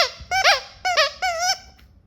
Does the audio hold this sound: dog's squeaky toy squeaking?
yes